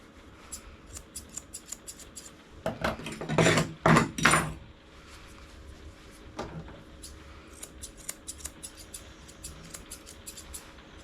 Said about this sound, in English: that needs trimming into the shape of the leg